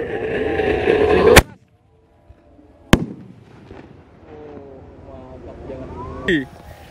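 A roman candle firework is lit at night during a festive celebration, with two sharp, loud bangs separated by a short silence and faint voices and background noise around them.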